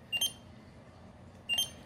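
A barcode scanner used for a zone physical inventory count in Retail Pro 9 gives two short, bright confirmation beeps about a second and a half apart, each clear and close above quiet room tone.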